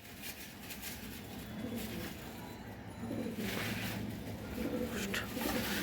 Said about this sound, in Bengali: এখানে একটা নর কবুতর